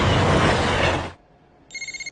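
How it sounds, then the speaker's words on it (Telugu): A telephone rings in a short burst of rapid electronic trills after a loud stretch of broadband noise cuts off abruptly. "మా బావ ఫోన్ చేస్తున్నాడు."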